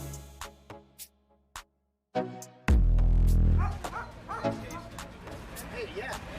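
A Rottweiler barks and attacks to defend its owner during a fight: a string of sharp, separate barks, then a sudden loud burst of scuffling commotion with voices mixed in.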